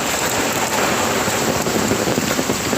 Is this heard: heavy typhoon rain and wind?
yes